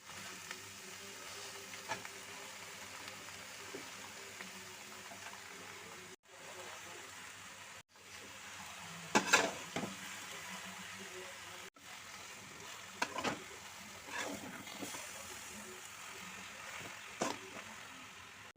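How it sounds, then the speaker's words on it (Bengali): Spinach is added to a hot pan and stirred, giving a steady sizzle and frying hiss with brief rustling bursts and scrapes as it is tossed; a person speaks over it. "এবার আমি এই পালং শাকগুলো সব দিয়ে দেবো ওর মধ্যে"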